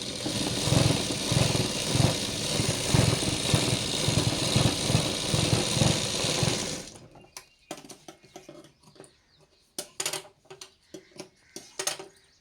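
A sewing machine stitches a blouse with a steady, pulsing motor whir for several seconds, then stops and leaves only scattered handling clicks and knocks.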